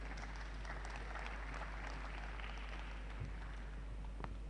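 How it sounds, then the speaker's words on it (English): Applause for the President at a scientific conference and annual general assembly in Nigeria, a steady dense wash of clapping from a large audience, moderately distant and even throughout with no talk over it. "Let's sustain the applause for the President"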